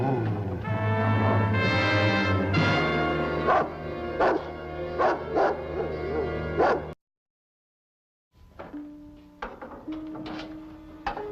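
A dog in a 1965 forest ranger drama barks and yips repeatedly in a loud, close rhythmic run, then, after a brief silence, gives a few softer whimpering yips.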